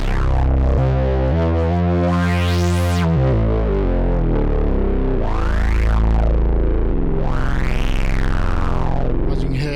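A heavily distorted SynthMaster 3 synthesizer patch plays loud, gritty tones that sweep up and down in pitch, with no voices.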